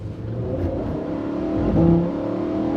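Lamborghini Huracan STO V10 fitted with a titanium Akrapovic exhaust, revving steadily at close range with a continuous engine drone that swells briefly before settling back; no voices.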